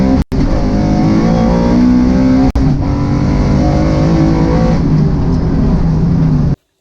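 A Coyote-swapped New Edge Mustang GT engine roars loud and close at sustained high revs for several seconds, with two brief cuts in the sound, then stops abruptly.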